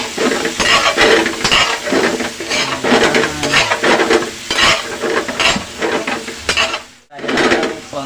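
Shrimp sizzle and crackle in a hot pan for sweet and sour shrimp with onion and chili, while a utensil scrapes and clinks against the metal in repeated stirring strokes; a brief hush comes near the end.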